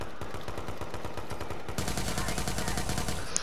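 AK-47 automatic gunfire in the video game Watch Dogs 2 comes in a rapid, sustained burst of close, loud shots that grows denser and harsher partway through.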